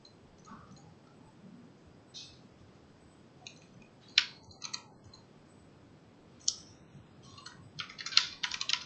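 Keys clicking on a computer keyboard during a programming session, with scattered sparse keystrokes and a few sharper taps in quick pairs, heard close and fairly faint against a quiet room hiss, no talking.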